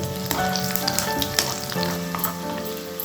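Garlic and tempering spices hit hot oil for a raw tamarind chutney, a loud, continuous close-up sizzle with sharp crackles and pops throughout.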